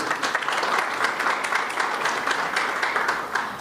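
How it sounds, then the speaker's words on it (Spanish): Dense, steady audience applause fills a formal ceremony held by the Guanajuato state congress, with many hands clapping evenly throughout and no speech on top. "también queremos dar un caluroso aplauso"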